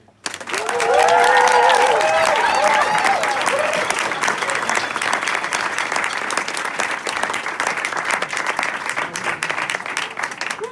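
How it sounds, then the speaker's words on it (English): Enthusiastic applause from an audience at a storytelling event, loud and sustained from start to finish, with a brief voice audible early on over the clapping. "please put your hands together and prepare to clap very, very enthusiastically for Steven."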